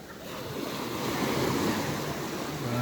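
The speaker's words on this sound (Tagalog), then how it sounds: "At tingnan nyo po ang dagat dito." Sea waves wash steadily onto a beach of darker, non-white sand at Real, Quezon, with a continuous close roar of surf and some wind noise, no voices.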